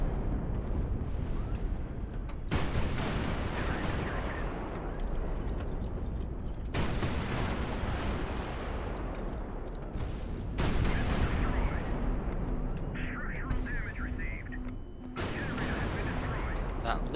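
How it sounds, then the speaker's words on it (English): Heavy booming blasts in the naval combat game High Fleet as an armor-piercing round sets off ammunition, several deep rumbling explosions that start abruptly and roll on, with a voice talking over part of it. "That Archangel just fired an armor-piercing round that detonated some ammo and ripped half the left side off."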